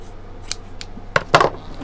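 Scissors cut a hunk off a long length of fabric-like material, making a few crisp, close snips, with two louder cuts near the end.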